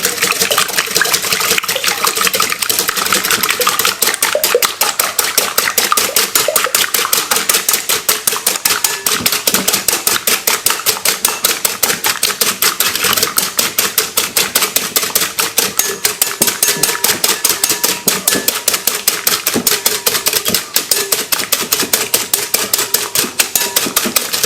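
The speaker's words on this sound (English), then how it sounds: "you want to whisk the egg" Eggs for Yorkshire pudding batter being whisked in a bowl, a fast, steady clatter of rapid strokes running throughout, close and loud, with no talking.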